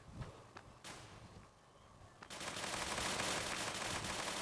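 Rapid bursts of gunfire from the online shooter game Bullet Angel in mummy mode, scattered single shots at first, then a dense, sustained volley of automatic fire toward the end.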